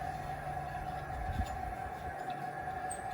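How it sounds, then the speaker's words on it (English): Propane gas flows from a 20 lb tank into a 1 lb bottle as a faint, steady hiss with a thin constant whine, unbroken throughout. "You can actually hear the gas going into the tank."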